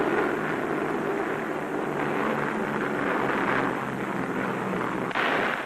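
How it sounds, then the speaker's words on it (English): B-24 Liberator bombers of the US Army Air Force fly overhead in formation, a dense, continuous roar of many piston engines that stays steady and loud throughout with no voices. "Giant liberators of the United States Army Air Force bound for Leh, an important Japanese naval and air base on the island of New Guinea"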